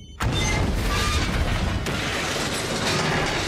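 A bomb detonates in Batman: Arkham Asylum, a sudden loud boom that bursts in at once and rolls on as a dense, roaring rumble with crashing debris for several seconds.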